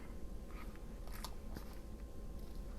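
A crafting punch or cutting tool crunches through a paper sample book page, giving a few sharp crackling bites near the mic over a steady low hiss.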